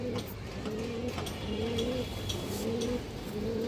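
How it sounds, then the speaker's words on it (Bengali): A big-headed silver male pigeon coos in repeated rolling calls, close and steady, about four phrases with short gaps between them. "কৌতরের সাইজটা যেমন বড় এমন ডাকটা দেখেন আপনারা"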